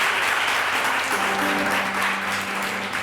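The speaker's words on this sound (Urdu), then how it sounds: "بہت ساری تالیاں سید صبی الدین صبی رحمانی کے لیے" A studio audience at a television entertainment show applauds steadily, an even, full burst of clapping with no voices over it.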